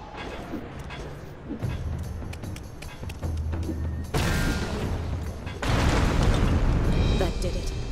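A flimsy fuse panel blows apart in the stealth game Mark of the Ninja, with booming explosive bursts at about 4 and 6 seconds over a busy, noisy game backdrop.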